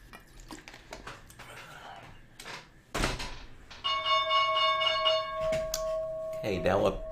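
Stock market opening bell ringing: a steady sustained bell tone enters partway through and rings on under scattered clatter and talking voices, loud and close.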